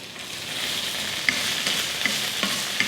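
Okra being sautéed with a little salt in oil, a loud continuous close sizzle broken by several light spoon taps and scrapes against the pan, no talking.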